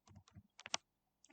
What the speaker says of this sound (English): So you press the times 100 on your keyboard